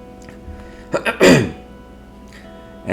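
A single harsh cough bursts out at close range, a couple of short throat sounds leading into one loud hacking burst, then a quiet pause before another noise at the end.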